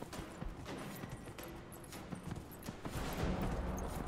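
Horse hooves clip-clop in Dragon Age Inquisition, a steady run of soft, fairly faint hoofbeats over game ambience and scattered noise, with brief voice sounds now and then.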